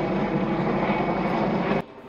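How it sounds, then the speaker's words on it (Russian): A helicopter flying over a river during a search, its loud steady engine and rotor drone filling most of the moment before cutting off abruptly near the end. "Весь день вертолет обследует акватории реки с воздуха."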